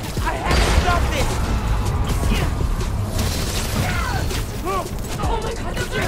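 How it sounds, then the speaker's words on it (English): A bridge collapses in the video game Spider-Man: Miles Morales, with loud continuous rumbling, creaking metal and crashing debris filling the whole stretch alongside game effects. "The bridge is coming down."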